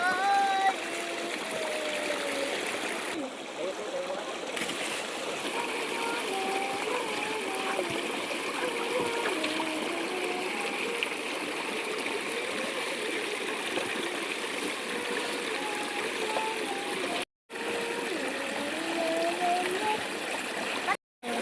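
A flowing river stream in a little-visited spot being cleaned up, with continuous rushing and gurgling water close by. Voices talk and call out over it for most of the stretch, and the sound cuts out briefly near the end.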